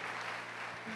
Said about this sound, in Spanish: Vamos a darle un aplauso a Yacimel también